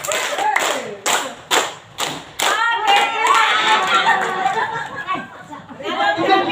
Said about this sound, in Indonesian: Kita kasih tepuk tangan segitiga.